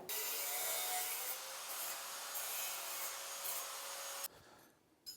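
A snowmobile A-arm rod end being cut off, a loud, steady, harsh grinding rasp held for about four seconds before it abruptly stops, leaving a brief quieter tail.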